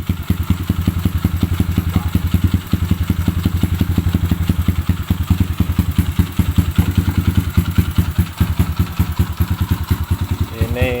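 A Kawasaki KLX dirt bike fitted with a PE28 carburetor and BRT CDI idles steadily nearby, its single-cylinder engine thumping in a fast, even rhythm throughout with no pauses.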